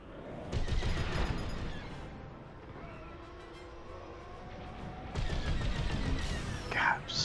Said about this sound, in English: God, so many shots.